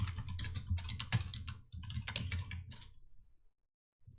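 Someone types on a computer keyboard while working in PowerPoint, a close, clear burst of rapid key clicks in quick clusters that stops in silence near the end.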